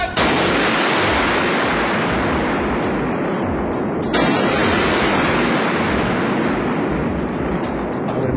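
An M107 sniper rifle fires at a military range, a loud blast washing into a long broadband roar, followed by a second sharp report about four seconds later.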